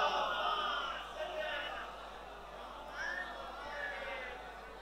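Congregation at a majlis gathering reciting salawat together in unison, a loud sustained chorus of many voices with rising and falling phrases, reverberant and crowd-like.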